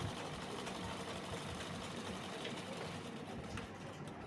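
A sewing machine runs steadily, stitching a seam on the lining of a blouse sleeve with a half-inch margin, a continuous close mechanical whir at even speed with no talk.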